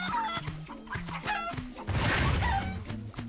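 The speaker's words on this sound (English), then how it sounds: "let's blow all the chickens up" Cartoonish chickens from the Crash Twinsanity video game cluck in quick repeated bursts, close and fairly loud, with a brief noisy burst midway through the clucking.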